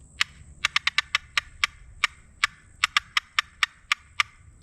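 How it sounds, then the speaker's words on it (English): Rapid, irregular clucks from a turkey box call, a quick series of sharp, clicky cuts, close and clear with no talking. "It's just a series of rapid clucks."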